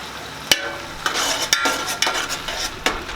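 Minced garlic and onion sizzling in a pan, with a steady frying hiss broken by several sharp clinks of a utensil against the pan as it is stirred.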